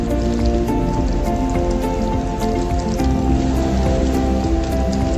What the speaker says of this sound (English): Rinse hand with water.